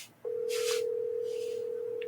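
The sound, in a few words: telephone ringing on an outgoing call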